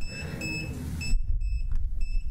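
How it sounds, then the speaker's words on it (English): A phone timer beeps in repeated short, high electronic pulses, fairly close, over low room rumble during a school district meeting. "It's going to beep right now."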